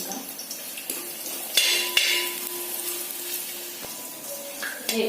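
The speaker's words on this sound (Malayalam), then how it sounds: "ആദ്യം നമുക്ക് തേങ്ങാക്കൊത്ത് വെച്ചിട്ടൊന്ന് വറുത്തെടുക്കാം." Pieces of coconut fry in ghee in a pan with a busy sizzle, broken by sharp scraping stirs and clinks, close up.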